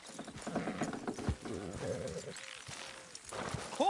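Horse hooves clop in a steady rhythm over a soft mechanical rumble, with a voice speaking briefly in the background, in the video game Red Dead Redemption 2.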